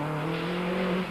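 A Toyota Conquest rally car at the 1993 Swartland Rally powers through a stage, its engine a steady, close, loud drone for about a second with no voices.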